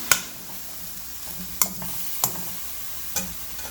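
Snake gourd sautéing in a pan over a medium-low flame, a soft steady sizzle punctuated by four sharp spatula scrapes and knocks against the pan.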